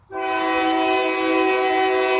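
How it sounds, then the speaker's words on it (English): A passing train sounds a new, loud horn in one sustained, piercing blast that starts abruptly and holds steady and close for about two seconds, with no talking. "they got a new horn, so that's actually louder than the old one"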